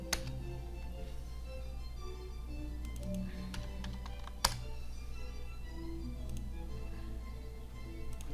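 Computer keyboard typing at a trading desk, heard as faint, sparse, irregular key clicks over a steady low room hum, with one sharper tap near the middle.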